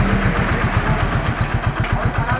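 A warmed-up motorcycle engine idles close up with a steady, rapid put-put pulse at an even rhythm, loud and continuous throughout.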